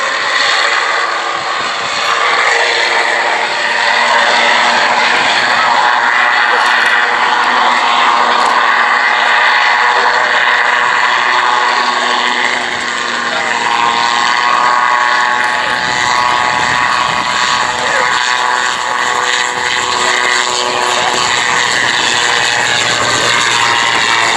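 An autogyro flies at the East Kirkby airshow in Lincolnshire, its propeller engine droning loud and steady with a whirring rotor, the tone wavering slightly as it passes over the field.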